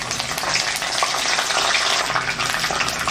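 Steady, loud sizzling and crackling of curry leaves frying in hot oil for Chettinad fish curry, continuous throughout with no voices.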